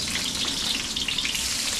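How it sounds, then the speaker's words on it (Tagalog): Onions hiss and sizzle in hot oil in a pan, a steady, close, bright frying crackle with no talking over it. "Tapos gisahin natin to. Lagyan natin ng sibuyas."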